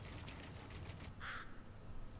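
A crow caws once in the Fortnite video game, a short harsh call at mid distance over a quiet ambient game background with faint rustling.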